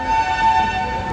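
At a railway station, the Howrah Rajdhani Express sounds a steady, loud tonal horn or whistle over a low engine rumble.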